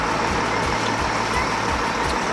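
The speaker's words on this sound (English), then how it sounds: "Lots of traffic." Road traffic with trucks rumbles steadily nearby, a dense continuous engine drone with repeated low pulses as heavy vehicles pass, and no voices heard.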